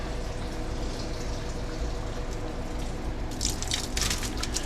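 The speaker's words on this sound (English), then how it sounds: "I'm taking it out of the brine solution now and I'm putting it in to fresh water to give it 1 rinse." Brined cabbage and daikon radish being rinsed in fresh water: steady splashing and trickling water with a few brighter sloshing bursts toward the end, close and moderately loud, no talk.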